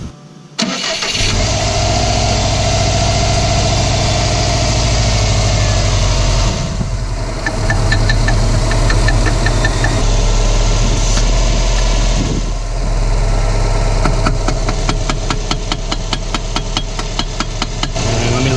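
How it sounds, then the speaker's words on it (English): A Subaru WRX STi engine with an R2 intercooler starts and settles into a loud, steady idle that runs throughout, with a slight change in tone partway and light ticking near the end. "Amazing, it's idling pretty good with that on the ground."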